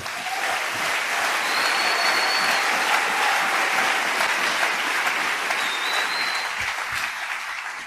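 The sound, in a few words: church congregation applauding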